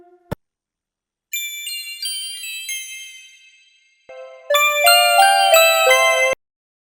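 A mobile phone rings with a bright, chiming melodic ringtone that plays one phrase, pauses, then repeats louder, close and clear with no voices over it.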